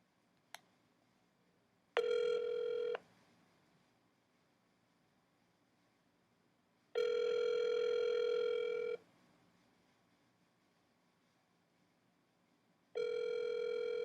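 A landline phone plays repeated steady dial-tone bursts, about one to two seconds long, separated by quiet gaps, with a single short click just before the first tone.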